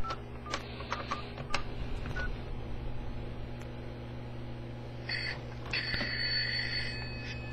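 A home phone on a MagicJack line dialing a local number, a rapid series of short DTMF keypad tones followed by a sustained ringback-like electronic tone, heard close over steady background hum.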